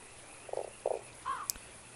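A toad croaks in the video game Fran Bow: three short, throaty croaks spaced about a third of a second apart, the last slightly longer and rising, followed by a faint sharp click.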